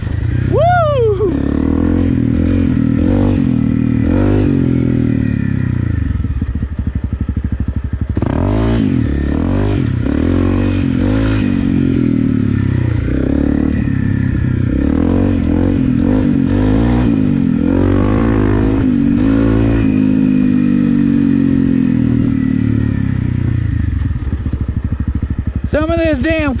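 A Honda CRF 250 Rally geared with a 13-tooth front sprocket rides over slippery clay and dirt, its engine droning steadily close-up with rises and falls as it revs, mixed with wind buffeting and a rider's voice.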